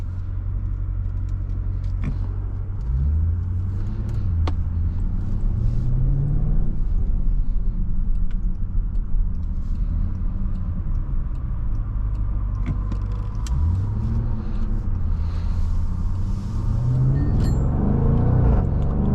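2023 Jaguar F-Pace SVR accelerating hard on the road, engine note climbing through rising sweeps with gear changes, a steady rumble heard from inside the cabin.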